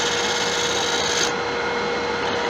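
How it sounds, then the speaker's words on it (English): Wood turning a simple bowl with a side bevel finish cut: a steady, close scraping rasp of the gouge on spinning wood, continuous with a slight drop in brightness partway through, and no talking. "Now, use a side bevel to get a nice finish cut on it."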